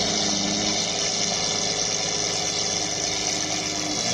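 A Lamborghini Aventador engine at a King of the Mountain hill climb, a steady, loud, continuous mechanical drone that holds evenly throughout with no speech.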